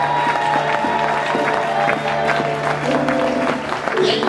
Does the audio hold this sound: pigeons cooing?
no